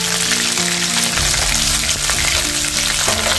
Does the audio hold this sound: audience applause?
no